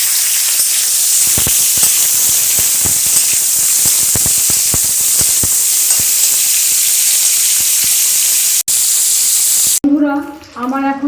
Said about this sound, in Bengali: এখন আমি হালকা আঁচে ভেজে নেব।